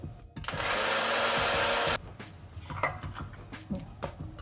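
A mixer grinder whirs loudly for about a second and a half, blending red Kashmiri chilli chutney, then cuts off abruptly and leaves quieter handling sounds behind.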